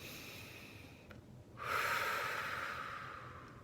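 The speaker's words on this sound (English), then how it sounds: "So one deep breath" A single slow deep breath, a quiet airy inhale that swells into a longer, louder exhale, close and soft against faint background hiss.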